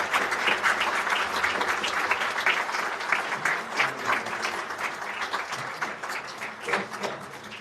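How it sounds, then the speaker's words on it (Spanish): A sustained round of audience applause for a history panel, dense and steady clapping from many hands lasting throughout, fairly loud with no voices on top. "quisiera que les diéramos un fuerte aplauso"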